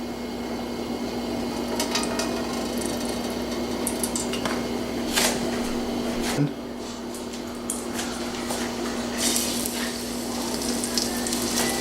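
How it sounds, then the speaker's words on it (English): Salmon, floured, sizzles and crackles steadily in hot oil in a frying pan, with a few sharper pops and clatters, close and fairly quiet. "Hot frying pan. Oil goes in."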